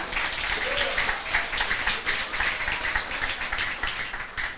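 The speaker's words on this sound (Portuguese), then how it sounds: "aplaude Jesus se você se sentir vontade mesmo" A church congregation applauding during a Portuguese sermon, a continuous wash of clapping at moderate level with a voice faintly present underneath.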